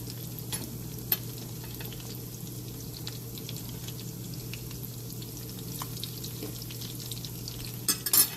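Thin chicken milanesa cutlets fry in a hot pan with a steady, close sizzle and scattered small pops, heard alone without talking.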